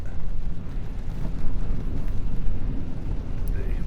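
Loud, continuous low rumble of strong wind from a severe thunderstorm at a truck campsite, buffeting the microphone and roaring steadily throughout with gusty swells.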